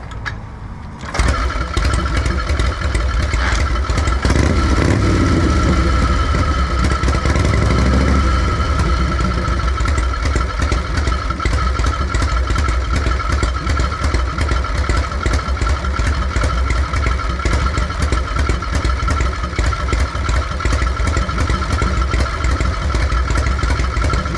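A 1950 Harley-Davidson Panhead chopper engine fires up after a brief quiet moment and then settles into a loud, steady, close-up idle with a rough, lumpy beat that carries on alone for over twenty seconds.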